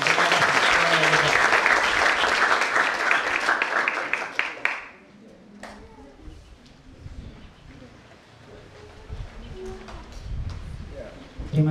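An audience at a Christian high school in NTT gives dense, loud applause for about five seconds, which then quickly fades into scattered claps and murmuring voices in the hall.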